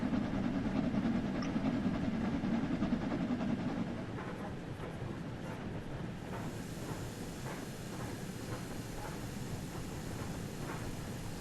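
A railtour train hauled by a British Rail Jubilee class steam locomotive rolls along, with a steady rumble and rhythmic clickety-clack of wheels over rail joints that shifts and eases partway through.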